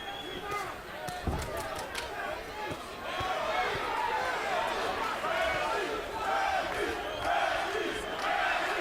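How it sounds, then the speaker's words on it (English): Boxing crowd chanting for a fighter in a big arena, a dense roar of many voices rising and swelling, with a commentator talking over it. "Crowd is beginning to chant for Tim Bradley."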